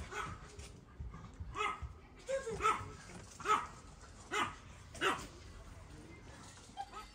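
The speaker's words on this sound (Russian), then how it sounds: "потому что собаки лают" Several dogs bark in short bursts at a middle distance, with occasional yips and whimpers, over steady background noise and people talking.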